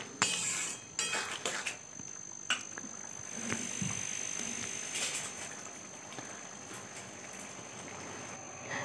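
Fried lentil dumplings (bori) drop into a pan of mixed vegetable curry with a few clattering knocks of utensil on pan at the start, then a soft, steady simmering background.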